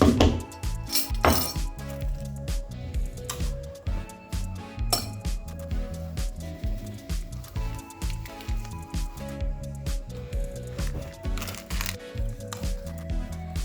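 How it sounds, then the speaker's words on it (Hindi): A metal spoon clinks and scrapes against a bowl while mixing crushed biscuits, with repeated sharp taps and a rhythmic stirring texture. "मैं चम्मच से मिक्स कर रही हूँ"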